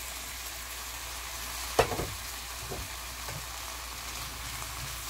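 Oyster mushrooms and beef stir-fry in a pan with perilla oil, a low steady sizzle running under one sharp clatter of a utensil against the pan, followed by a few softer scrapes, close up with no voices.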